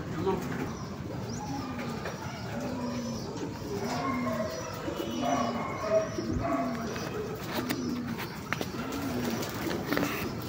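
Racing pigeons coo softly in overlapping calls during a first training flight, with a murmur of background chatter and rustling from a crowded outdoor spot.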